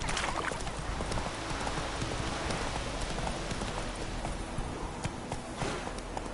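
Hooves of Roach, a horse in the Witcher 3 video game, clopping at a trot under a dense, noisy backdrop that sounds like rain, with no talk.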